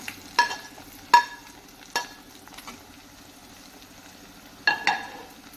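Onion and tomato fry in oil for bhaji as a metal spoon clanks sharply against the pan about five times, the ringing knocks standing over a low, faint sizzle, with no speech.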